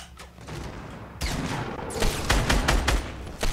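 Gunfire in the video game Fortnite Battle Royale, a rapid burst of sharp shots followed by a louder barrage of close, heavy cracks and booms in quick succession.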